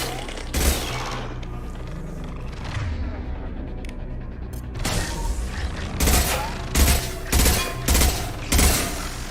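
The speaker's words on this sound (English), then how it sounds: "Under fire." Gunfire in the Mass Effect 2 video game, with rapid bursts and heavy booming shots in a fusillade, loud and dense, with mechanical clanks between volleys.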